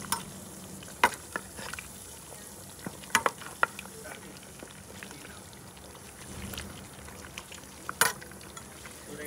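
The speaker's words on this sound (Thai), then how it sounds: "เราก็ปิดฝาไว้เนาะต้ม ประมาณชั่วโมงหนึ่งนี่แหละเพื่อให้ขาลายมันอ่อนนะ" Beef stew simmering in a covered pot, a steady soft bubbling hiss with scattered clinks and taps, close and fairly quiet, no voices.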